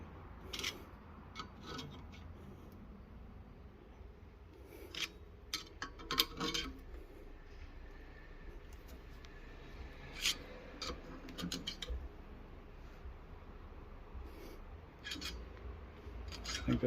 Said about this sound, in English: and do the second crimp